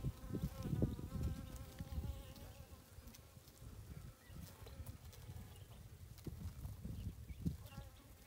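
Honeybees buzz steadily throughout an open beehive inspection, a dense continuous drone with close passes of individual insects rising and falling in loudness.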